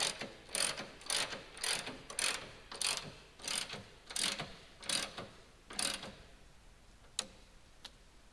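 A ratchet snugs down bolts during a 4.3 to 5.3 V8 engine swap in a lowered GMC Sierra truck, clicking in steady repeated bursts close up. The last few strokes thin out and fade.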